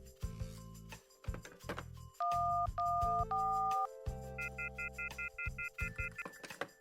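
Telephone keypad tones sound in the occult mystery adventure game Novena Diabolos: a series of short, clean dialing beeps, some held longer, then a quick run of rapid repeated pips, fairly quiet and without talk.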